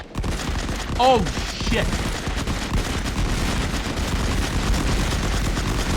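Artillery and gunfire from a trench-warfare video game rumble in a dense, continuous barrage of booms and crackling shots, with someone briefly shouting over the din.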